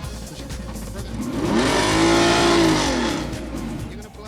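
A race car engine, hot after a race, swells up into a loud rising and falling rev that peaks mid-clip and then fades, heard up close with no talking.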